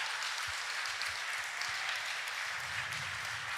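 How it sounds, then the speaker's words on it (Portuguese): A church congregation applauds in a soft, steady wash of many hands clapping together, heard from a distance with no distinct individual claps standing out. "Você pode aplaudir esse Deus por isso?"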